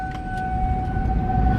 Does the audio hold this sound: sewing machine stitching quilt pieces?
no